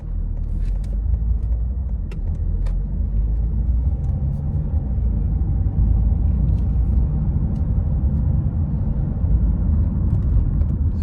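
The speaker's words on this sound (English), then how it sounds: "So I'll show you how the car runs" A Ford Galaxy's engine runs steadily while driving at around 35 mph, a continuous close low rumble with road noise from inside the cabin and a few faint clicks, no talking.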